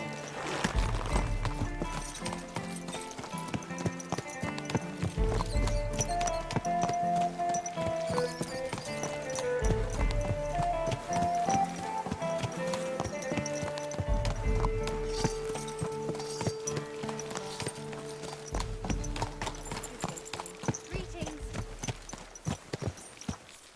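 Horse hooves clip-clop at a steady walking rhythm over continuous game music in Kingdom Come: Deliverance 2, fairly close and moderately loud.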